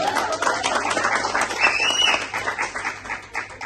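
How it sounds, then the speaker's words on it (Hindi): Audience applause at a motivational training session, a dense burst of many hands clapping together that holds steady for several seconds before thinning out near the end. "जोरदार ताली होनी चाहिए मैम को।"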